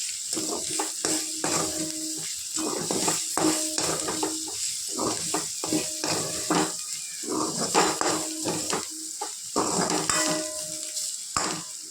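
Ivy gourd fry is stirred in a pan, with repeated close scraping strokes of a spatula against the metal in an irregular rhythm over a soft background sizzle.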